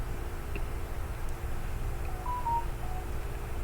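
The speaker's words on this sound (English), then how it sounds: "The phone had to chime in on that one." A phone notification chime sounds as a few faint short electronic tones over a steady background hum, with no voices.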